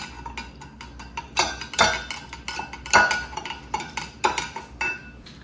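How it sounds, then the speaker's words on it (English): A spoon stirs lavender lemonade in a glass, giving quick irregular clinks and taps against the sides with several louder knocks, close and clear with no talk. "So let's give that a stir."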